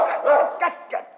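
A pet dog barks and yips several times in quick succession, close and fairly loud, with short whimpery tones between barks.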